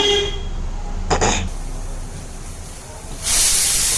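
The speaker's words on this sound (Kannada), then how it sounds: "ಇವಾಗ 2 ವಿಜಲ್ ಬರ್ತಾ ಇದೆ." A stovetop pressure cooker holding potato, peas, mint and rice lets out a loud, hissing steam whistle that bursts in near the end after a quieter, steady hiss, with a brief puff of steam earlier.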